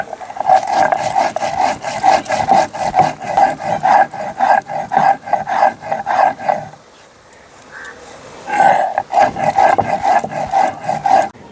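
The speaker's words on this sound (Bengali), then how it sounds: "মশলাটা আমি জল দিয়ে বেটে নিচ্ছি।" Spices are ground with water into a paste on a grinding stone, a loud, rhythmic back-and-forth scraping rub in steady strokes that pauses for a couple of seconds and then resumes at the same pace.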